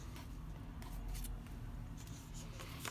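Scissors snip through card stock while building a concertina envelope journal, giving soft, close crunching cuts repeated over a few seconds against quiet room noise.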